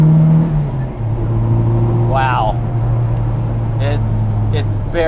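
A 1966 Austin Mini Cooper, right-hand drive with a 1275 S engine, pulls hard under acceleration, its engine drone steady and close throughout, with a brief voice exclaiming partway through.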